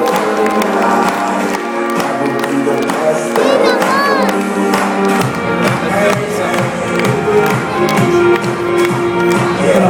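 An audience at a fashion show cheers and claps loudly and continuously, with shouts and whoops rising over the crowd noise and music.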